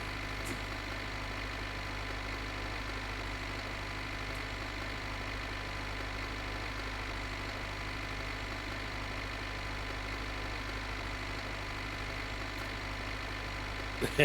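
Tractor engine in the video game My Winter Car runs steadily at a low, even idle-like drone throughout, continuous and moderately distant, with no talking over it.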